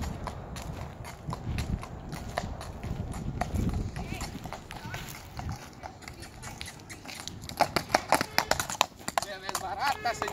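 A Hackney cross horse moves along with brisk, repeated clip-clopping hoof strikes that grow sharper and quicker toward the end, while someone talks quietly in the background.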